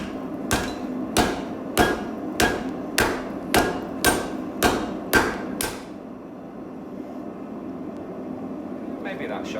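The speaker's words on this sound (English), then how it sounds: "I'm going to give this a couple of whacks with a rawhide mallet, try and flatten it out without too much deformation." A rawhide mallet strikes a piece of material to flatten it, landing about nine evenly spaced, sharp whacks in a row before stopping, with a quiet background hum afterward.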